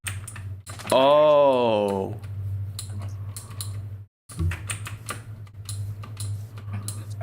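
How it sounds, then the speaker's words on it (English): Computer keyboard typing in a quiet room: a steady run of light, close clicks and taps over a low hum, with a brief voiced exclamation near the start. "It's my keyboard."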